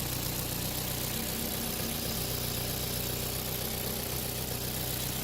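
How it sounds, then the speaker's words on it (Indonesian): A Ford car engine idles close by with a rough misfire, a steady low rumble and hum filling the short stretch without any voices. "Untuk mesin juga ini ada pincang ya"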